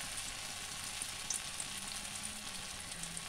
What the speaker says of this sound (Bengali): অল্প একটু করে মিক্সারটা নিয়ে গোল গোল করে এর মধ্যে ভাজতে হবে